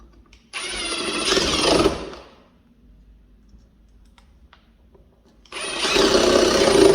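A handheld router cuts a door hinge slot into wood in two loud, harsh bursts of whining, grinding machining, each lasting about one and a half seconds, separated by a quieter gap of low hum.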